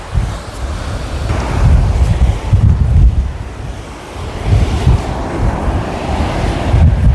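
Waves wash up on a shore, surging and receding in broad swells under heavy wind buffeting the microphone, loud and close.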